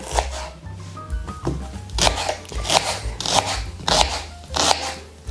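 A knife slices an onion into rings on a cutting board, a series of crisp crunchy cuts landing roughly every half second, close and clear, with a low hum underneath.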